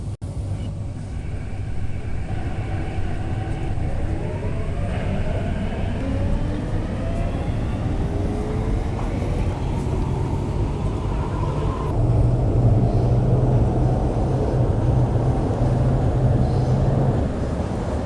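An MTR C-Train runs on the rails between Choi Hung and Central, heard from inside the car as a steady loud rumble of wheels and motor with rising and falling whine tones throughout, and no talk.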